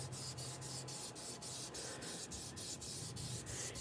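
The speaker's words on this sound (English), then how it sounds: "I'm just going to rub this really good to make sure I get a good image." A hand tool rubs firmly back and forth over a stamped image on card for a reflection card, giving a steady run of rhythmic scratchy strokes, close and evenly paced, with no talking.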